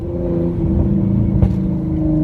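A Hyundai Genesis Coupe with a muffler delete and test pipes revs up to about 3,000 rpm. Its exhaust gives a loud, steady droning rasp with a brief crackle partway through, heard up close with no talking.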